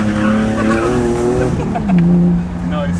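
A BMW E36 car drifting, its tires squealing in a long wavering wail over the engine's growl, with a short burst of louder skidding near the end and voices talking over it.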